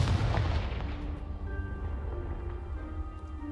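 A Confringo blasting spell in the Hogwarts Legacy video game bursts with a loud explosive crack at the start, then leaves a long rumbling, ringing decay under a steady game soundscape.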